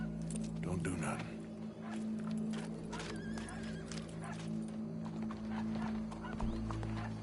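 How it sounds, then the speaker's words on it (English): Horse hooves clip-clop in Red Dead Redemption 2, with irregular hoof strikes at moderate loudness over a steady game soundscape with a low sustained hum and scattered other sounds. "Go brush that horse, officer."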